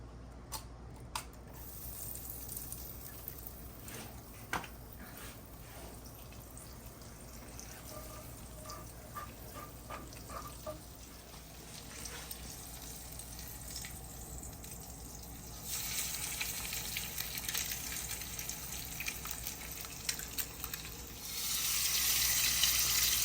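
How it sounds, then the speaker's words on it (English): Eggs frying in a pan on a home stove, a steady soft sizzle and crackle with brief clinks of handling, the hiss swelling louder near the end; no talking. "I'm fixing to fry us a couple eggs"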